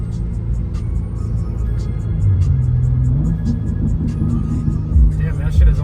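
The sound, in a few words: BMW M car revving while drifting in rain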